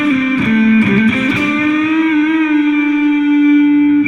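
An electric guitar through a distortion pedal on a pedalboard into a Spark2 amp plays a few quick notes, then holds one long sustained tone that rings out loudly and evenly.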